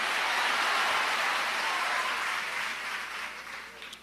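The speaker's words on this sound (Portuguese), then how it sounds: "Você pode aplaudir ao Senhor e misturar nessas palmas glória e aleluia" A church congregation claps for the Lord during a sermon, producing a full, continuous roar of palms that stays loud and then eases off slightly near the close.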